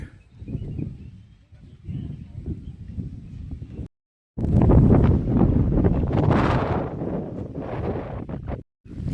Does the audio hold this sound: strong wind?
yes